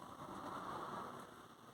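Steady rain falls around a van parked on a country lane, a soft continuous hiss that stays even throughout the clip, with no voices.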